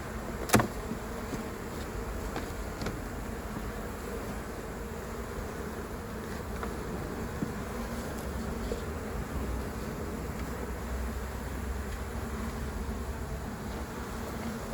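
Honeybees buzz in a continuous, even drone around open hives at a city farm, with one brief sharp click early on and no voices.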